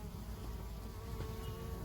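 Honey bees buzzing as they gather nectar from breadfruit, a dense continuous droning hum from many insects, steady and fairly close throughout.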